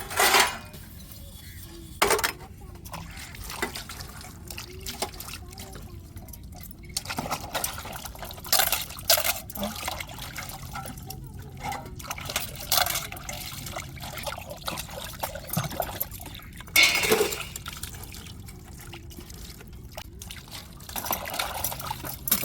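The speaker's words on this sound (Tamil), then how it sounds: "இப்படி தாங்க பாத்திரங்களையெல்லாம் தேய்ச்சி நம்ம 2 தண்ணி வச்சு நல்லா கழுவி தேய்ச்சி எடுத்துக்கிறேன்னு பாத்திரத்தை" Kitchen utensils are scrubbed and rinsed with water at home, with trickling and splashing water, clinks of metal vessels and scraping in irregular bursts over a long stretch, close by.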